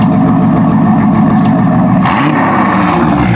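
A Chevrolet Corvette C4 engine revving hard on a cold start, loud and close, with a steady roaring drone that surges and shifts pitch partway through.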